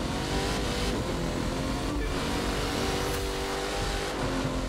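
Shelby Mustang GT500 engine in the racing game The Crew 2, a steady continuous roar of revving and driving with faint tire noise, no voices.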